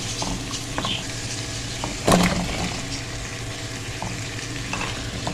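Chopped potatoes sizzle steadily in a pan nearby, with a brief louder clatter and splash of stirring midway, then the constant frying hiss continues with no speech.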